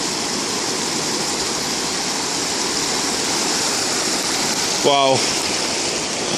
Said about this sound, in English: the water is coming from the mountains right here, and it's going into the lake